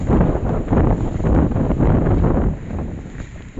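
Heavy wind buffets a phone microphone at a plantation site in Sitio Balatong, with loud, rumbling gusts that drown out everything else and ease slightly near the end.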